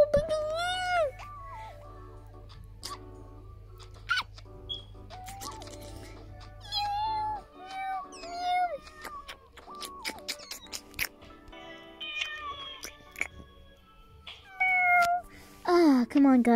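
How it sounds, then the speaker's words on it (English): Cartoonish cat meows from many kitties in the video game Miga World, bursting out repeatedly over game music and sound effects, with a child-like voice talking at points. "Oh my gosh, so many kitties."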